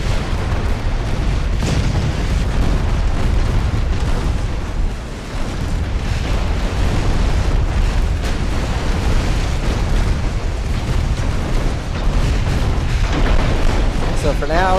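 Continuous heavy naval gunfire in the game Ultimate Admiral: Dreadnoughts with 1890-era warship hulls: deep booming salvos and explosions rumbling nonstop, loud and dense, with a voice talking over the barrage.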